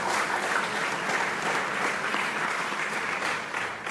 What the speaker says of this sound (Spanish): Dale un aplauso al